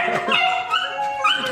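A pet dog greets its owner, who is home from a two-year mission and wearing a clean suit, with a run of close, excited yips, whimpers and short barks.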